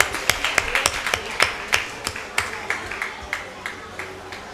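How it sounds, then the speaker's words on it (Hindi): Audience applause at a community anniversary gathering in a hall, a steady patter of claps from many hands lasting a few seconds, moderately loud and slightly irregular. "कृपया सभी ताली बजा के हौसला अफजाई करें।"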